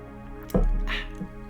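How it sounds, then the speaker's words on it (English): A mouthful of liquid swished around the mouth during a tasting, heard as one short, close, wet sloshing burst that fades within about a second, with no talking. "So go ahead and just take a swish."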